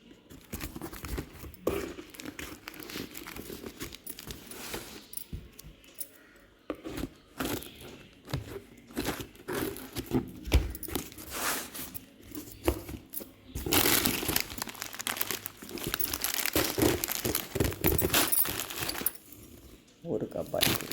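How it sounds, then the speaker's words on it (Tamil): A parcel holding an ordered Aari embroidery kit is opened by hand, with plastic and paper crinkling, tearing and rustling in irregular bursts, loudest toward the middle, while a person talks throughout. "இனிமேல் தான் நான் பிரித்து பார்க்க போகிறேன்"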